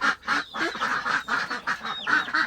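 Local village rooster and hens clucking and cackling in an almost continuous run of overlapping calls, fairly close and moderately loud, with no talk.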